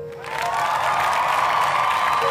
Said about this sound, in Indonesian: Akhirnya tepuk tangan yang begitu meriah